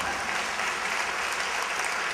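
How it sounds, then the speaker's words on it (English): An audience at a lunch event applauds in a dense, steady wash of clapping that holds evenly throughout, fairly distant and with no voices on top. "But please applaud that"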